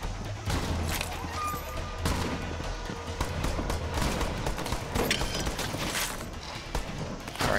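Gunfire in Borderlands 3, a steady barrage of rapid shots and crackling bursts layered over a low rumble, loud and sustained from start to finish.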